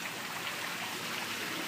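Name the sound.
rain falling in Louisiana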